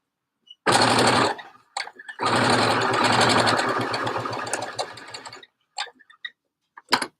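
A domestic sewing machine stitches jersey fabric in two bursts, a short run then a longer steady run of rapid rhythmic clatter, followed by a few faint clicks and handling sounds; no talk.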